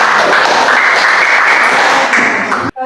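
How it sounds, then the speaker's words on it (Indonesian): A classroom of students applauds presenters, giving dense loud clapping that stays continuous for nearly three seconds before cutting off abruptly. "Berikan tepuk tangan dulu."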